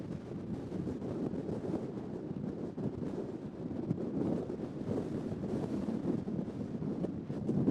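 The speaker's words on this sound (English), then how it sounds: "it's led me out right into the wind." Steady wind gusts outdoors on an unofficial path, buffeting the microphone with a continuous low rumble and no voices.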